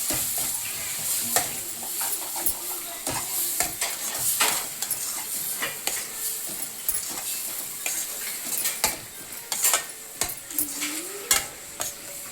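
A spice masala with coconut powder and a splash of water fries over low flame for a brinjal and green pea curry, giving a gentle sizzle broken by repeated scraping strokes of a spoon against the pan.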